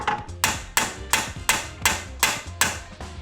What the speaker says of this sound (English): use my brass hammer and actually hammer a little bit on the base of the steering knuckle